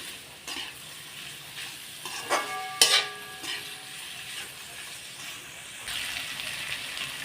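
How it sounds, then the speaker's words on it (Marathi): Chopped onion softening in oil in a pan for matar pulao, a steady low sizzle with a few spoon scrapes and clinks against the metal midway, growing slightly louder toward the end. "आता कांदा एकदम छान परतलेला आहे एकदम सॉफ्ट झालेला आहे"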